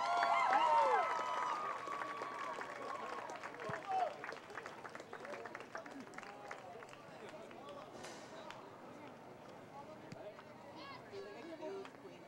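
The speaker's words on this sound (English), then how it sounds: "Another applause for our homecoming prince and princess" Crowd applause at a college homecoming event rattles on with scattered cheers and chatter mixed in, strongest at first then thinning into a lively murmur.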